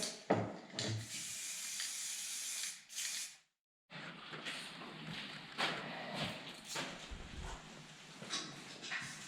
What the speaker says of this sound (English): now I can put some heat resistant paint on it.